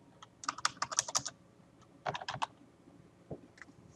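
Two quick bursts of typing on a computer keyboard, close and fairly quiet, followed by a single stray keystroke, with no voices.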